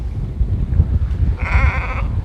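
A horned sheep out on moorland at Burbage Edge gives one short, close bleat about midway through, over rough wind and outdoor rumble.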